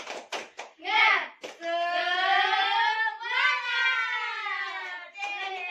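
Children in a combined-grade classroom do a clapping chant: a few sharp hand claps, then long, drawn-out voices chanting together in unison, ending with another quick clap.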